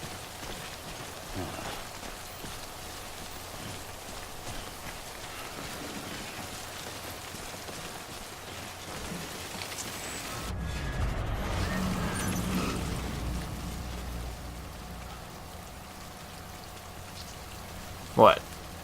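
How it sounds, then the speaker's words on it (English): Steady rain pours down in Death Stranding, a dense even hiss throughout, swelling slightly in the middle, with a sharp knock near the end. "Can it stop raining, please?"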